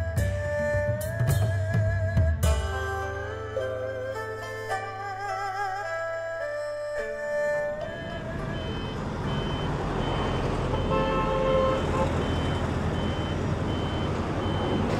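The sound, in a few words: busy road traffic with horns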